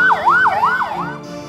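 A new 108 ambulance in Uttar Pradesh sounds its siren up close and loud, a wailing tone sweeping up and down in quick repeated cycles before cutting off.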